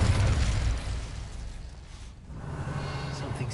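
The Incendio fire spell is cast in Hogwarts Legacy: a loud burst with a whooshing, eruptive roar that fades quickly, then a lower rumble rises again.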